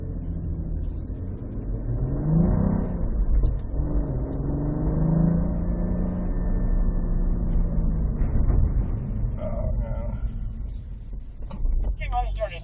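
A Cadillac Blackwing drives on a wet track with a steady engine drone, tyre and spray noise, easing as it brakes, while people talk over it in the car.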